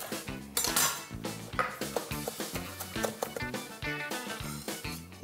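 Dill being chopped with a knife on a board, a brisk run of evenly spaced knocking strokes with clinking, close and clear, no talking.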